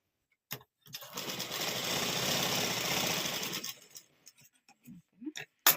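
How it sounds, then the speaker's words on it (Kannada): A sewing machine stitching cloth runs in one steady, rapid mechanical whir for about three seconds, close and fairly loud, framed by a few soft clicks and handling knocks before and after. "ಈ ಕಡೆ ನಾವು ಸ್ಟಿಚಿಂಗ್ ಮಾಡ್ಕೋಬೇಕು"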